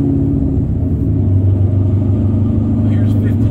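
Idling-low rumble of a car engine fitted with a big camshaft, held near 1500 RPM under very light load, steady and close with a lumpy low throb throughout.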